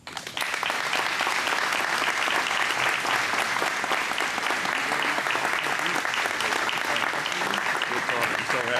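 Sustained applause from a banquet audience at a chamber of commerce 50th anniversary dinner, greeting former Vice President Al Gore; dense, steady clapping fills the room from start to finish with a faint crowd murmur beneath.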